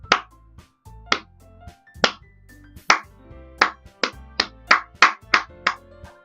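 Clap sound effects from Doki Doki Literature Club repeat around a dozen times, starting sparse and quickening toward the end, each crisp snap sitting over a quiet looping game melody.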